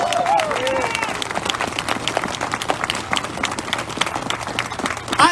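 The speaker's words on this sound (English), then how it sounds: "Please, everybody, give a big round of applause to Misha Porter." An audience applauds at a speech by the New York City schools chancellor, a steady wash of clapping throughout, heard with a voice briefly audible at the start.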